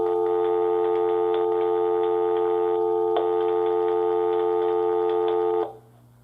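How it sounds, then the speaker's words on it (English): Steady telephone-line dial tone seized by a home security alarm panel during its exit delay, a continuous loud tone with faint ticking clicks over it that cuts off abruptly near the end. "Let's go ahead and hear the dial tone."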